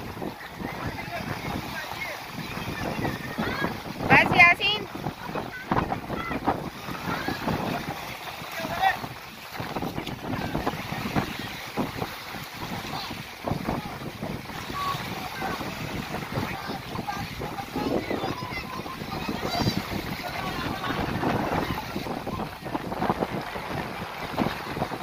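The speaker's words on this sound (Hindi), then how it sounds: "हवा जो है ना बहुत ज़्यादा तेज़ है यहाँ पर, मतलब प्रेशर से आ रही है तो शोर भी इतना ज़्यादा हो रहा है" Strong gusting wind buffets the microphone at a lakeside picnic point on Karli lake, a continuous roaring rush with surges and lulls, while people talk faintly underneath.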